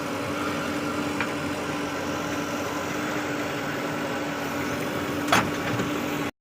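A tractor engine idling steadily out in a farm field, a constant low droning rumble that holds throughout at close range, with a brief rattle midway and a sudden cutoff at the end.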